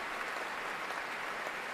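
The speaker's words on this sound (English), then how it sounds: "Particular applause for principal cellist Jonathan Asgore." An orchestra's audience applauds after Korngold's Robin Hood score, a steady wash of many hands clapping throughout, moderately distant and even with no pauses.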